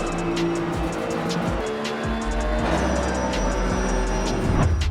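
Video game car driving in a driving simulator, a steady engine drone with rising and shifting tones, tire and road noise and occasional ticking effects throughout, fairly loud and continuous.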